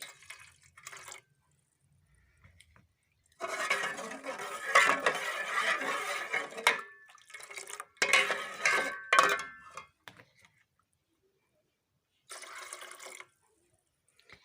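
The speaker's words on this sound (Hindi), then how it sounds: "डालते वक्त एक दफ़ा फिर मिक्स कर लेना है, क्योंकि ये नीचे से जम जाता है।" Spoon stirring a custard mixture in a pot, wet scraping and sloshing in several bursts of a couple of seconds each, separated by near silence, fairly close and moderately quiet with no talking over it.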